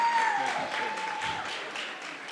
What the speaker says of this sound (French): j'appelle la team ENCG Casablanca, s'il vous plaît, sous vos applaudissements.